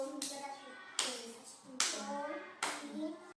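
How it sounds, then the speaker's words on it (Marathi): A child claps hands four times in a classroom counting activity, four sharp, evenly spaced claps close by, each followed by brief ringing from the room. "चार चार टाळ्या वाजव"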